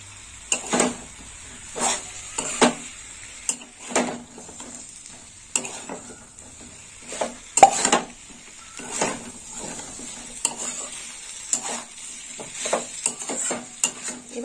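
Spoon stirring potato and vegetable stems frying in a pan, with repeated scraping strokes over a steady soft sizzle, close and fairly quiet.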